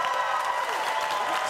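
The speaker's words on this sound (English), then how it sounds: "Can we give this man a big clap?" An audience clapping for a man at a university closing ceremony, a thick wash of steady applause with some cheering and raised voices, close and loud for a short stretch.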